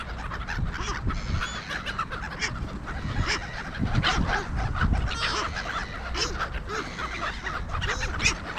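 Gulls calling in a noisy flock at a Saturday afternoon bird feeding, with steady overlapping squawks and honking cries close by, continuous through the whole stretch.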